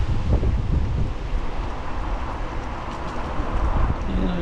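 Steady wind buffeting a helmet camera while cycling on a path near the M50 motorway in Tallaght, Ireland, a loud continuous roar and rumble with no talking.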